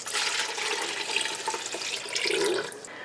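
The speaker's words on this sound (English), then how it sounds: "it's time to start adding my 15 cups of water" Water poured from a container into a large pot of tomato paste for canned spaghetti sauce, a steady close splashing gush of about three seconds that trails off at the end, with no talk.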